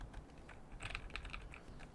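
Rapid typing on a computer keyboard during game development setup, a steady stream of quiet, close key clicks alone with no talk.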